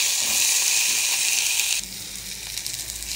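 Vegetable stalks fry in a pan with a steady bright sizzle that drops to a softer, quieter crackle partway through.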